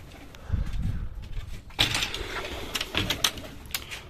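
Pigeons in a rooftop loft, with soft cooing and rustling, a few wing flaps and a sharp clatter like a door or cage, all heard close by.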